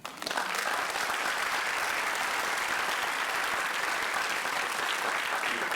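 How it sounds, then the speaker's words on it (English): A school-district event audience breaks into loud, sustained applause that fills the room at an even level for several seconds, with a voice faintly underneath. "I think that deserves a round of applause."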